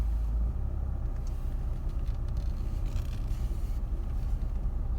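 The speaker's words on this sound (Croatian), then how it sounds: "Parkirat ćemo iza ovog auta ovamo" Car rolling slowly into a spot behind another vehicle at a city fuel pump, a low steady engine rumble close by with no talk over it.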